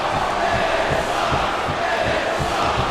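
A capacity arena crowd roars continuously in the WWE SmackDown vs Raw 2008 video game, a dense, steady wall of cheering and chanting with rhythmic low thumps underneath, loud and unbroken throughout.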